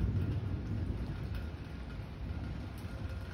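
Rain hisses steadily during a big electrical storm, with a low continuous rumble of thunder underneath, fairly faint and without voices.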